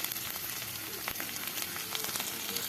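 Spices, bay leaf, garlic and dried chillies frying in hot oil in a wok, giving a steady close sizzle with faint crackles throughout.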